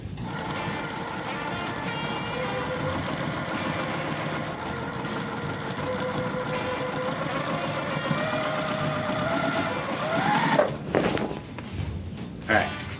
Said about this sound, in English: then back to the sewing machine.